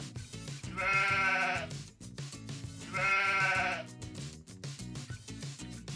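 A toy sheep gives two long, wavering bleats a couple of seconds apart, loud and near, with softer rustling and handling sounds between them and no talking.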